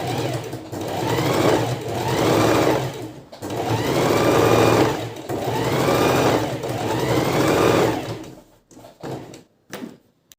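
A sewing machine stitches a small seam along the edges of a handmade bag or backpack, running in loud, steady bursts of a few seconds each with brief pauses between, then stopping near the end with a few faint clicks.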